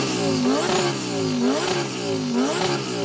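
A Lamborghini with a 5.2-litre V10 is revved hard several times in quick succession, each loud close blip rising in pitch and dropping back in a repeating rhythm, with no talking.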